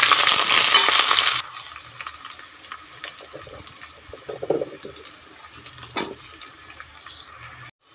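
Onions tipped into hot oil with cumin for a fish curry, a loud hiss and sizzle at first that drops to a quieter, steady frying with scattered stirring scrapes and clinks close by.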